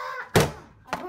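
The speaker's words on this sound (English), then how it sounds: "I'm breaking down the door." A door is broken down with a heavy impact, one hard thud followed by a lighter knock, brief and close.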